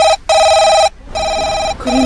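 A telephone bell rings loudly in repeated bursts, three rings separated by short pauses, with no talk over it.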